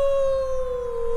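A video game wolf lets out one long, steady howl with a sustained, slightly falling tone, clear and close.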